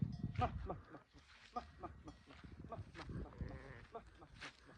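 Faint, distant bleating from a flock of mahmaq sheep on a farm, with several calls overlapping livestock noise and soft voices in the background.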